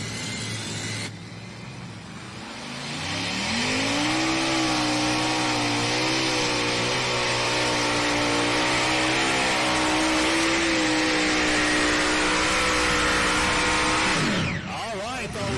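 A pulling tractor from a GMS-sponsored shop in Shandon, Ohio, roars at a Dorr, Michigan tractor pull, its engine climbing in pitch and holding a loud, sustained howl for over ten seconds before cutting off abruptly.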